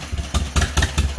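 John Deere M tractor engine idling nearby, a steady low throb with regular beating pulses, loud and alone.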